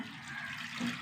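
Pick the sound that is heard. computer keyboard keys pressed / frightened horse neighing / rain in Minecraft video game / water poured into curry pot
water poured into curry pot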